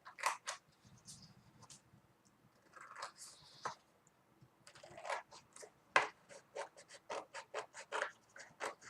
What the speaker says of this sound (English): Let's get my little scissors. Let's cut this out here.